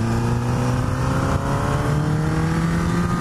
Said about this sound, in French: Je l'ouvre au tiers et je bouge plus et la moto accélère de façon très progressive.